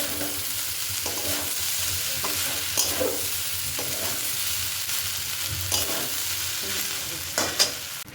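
Rice being stir-fried with vegetables and spices, a steady sizzle with repeated scraping and stirring strokes of a spatula throughout, close and fairly loud, no talking.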